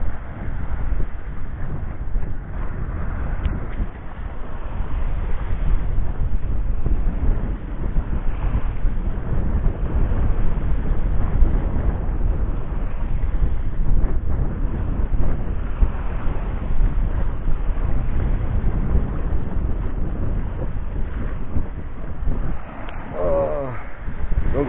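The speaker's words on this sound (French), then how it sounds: "Juste le bruit du vent et de la mer." Sailboat under sail off Corsica, with engine off, filled with steady wind buffeting the microphone and the rushing wash of sea along the hull, continuous and fairly loud, with a faint voice briefly near the end.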